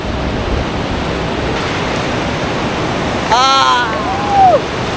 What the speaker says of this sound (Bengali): সমুদ্রের ঢেউটা অসাধারণ চলে এলাম একদম সমুদ্রের ধারে